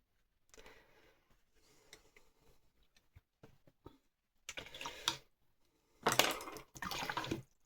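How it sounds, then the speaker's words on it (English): A watercolour paintbrush is rinsed in a water jar, with soft swishing and light taps against the container, then two louder bursts of splashing and clinking near the end. "Rinse my brush out."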